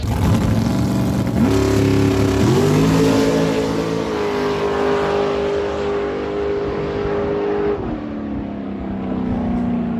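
A 2010 Dan Page dragster makes a drag racing run, its engine loud and close, revving hard through a couple of sharp gear changes before holding a steady high drone that fades slightly at the end.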